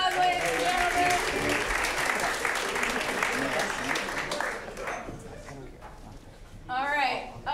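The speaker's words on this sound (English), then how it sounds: "Let's give them a round of applause, ladies and gentlemen." A crowd at a live comedy show claps for departing players in a steady burst that gradually fades, followed by a presenter talking and laughter rising at the end.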